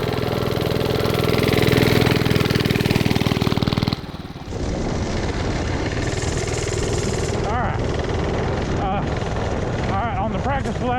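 Vintage Bonanza mini bike engine running on a test ride, a loud rattling small-engine drone that shifts pitch as it revs and pulls away, continuous and close.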